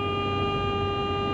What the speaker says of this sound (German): Die hupt und die hupt für eine erste Sekunde etwas lauter und dann wird sie schwächer